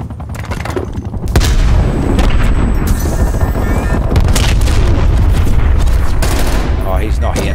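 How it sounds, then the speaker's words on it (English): A frag grenade going off in a first-person shooter video game: a loud, close boom opens a dense barrage of blasts and gunfire that rumbles on steadily for several seconds, with distant shots scattered through it. "Okay, grenade him. I'll just send you a frag there."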